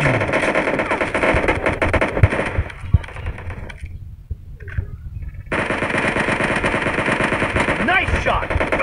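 Rapid automatic gunfire in the mobile battle game PUBG Mobile, loud bursts of shots over game ambience, cutting out briefly before resuming with continued firing and clatter.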